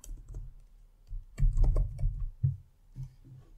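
Computer keyboard keys clatter in quick irregular bursts while a name is typed, close and crisp, with brief pauses between runs of strokes.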